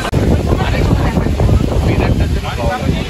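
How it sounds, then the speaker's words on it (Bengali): Strong wind buffets a microphone at the Dhauli Shanti Stupa hilltop viewpoint, producing a loud, constant low rumble and roar through the whole stretch with little variation. "হাওয়াটা দেখো।"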